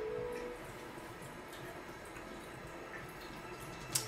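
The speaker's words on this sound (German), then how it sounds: "Aber dafür kommt jetzt hier super mega duper starkes basisches Wasser raus." Strongly alkaline water runs from an AquaVolta EOS Revelation 2 water ionizer under a kitchen sink, a soft steady splashing flow with a single sharper drip near the end, fairly faint and without speech.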